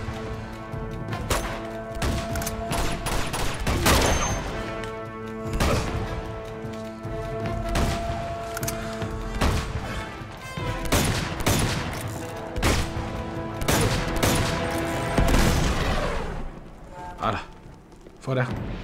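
Bursts of gunfire crackle through a firefight in Uncharted 2 on PS4, with repeated shots and impacts over roughly nineteen seconds while someone talks over the action.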